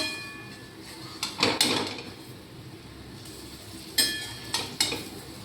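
Potato fritters (bora) being flipped in a frying pan: a few sharp scraping clatters of a utensil against the pan, in two short clusters, over a faint steady sizzle of oil.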